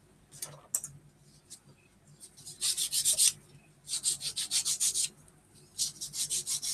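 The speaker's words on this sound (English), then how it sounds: "it takes a lot of sanding and a lot of trimming to make these parts fit well" An old Airfix B-29 model kit part is sanded by hand, giving bursts of close, dry, rhythmic scratching strokes separated by short pauses, alongside faint background noise.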